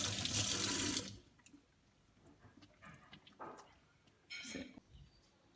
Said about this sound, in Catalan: és molt important rentar-se les mans amb aigua i sabó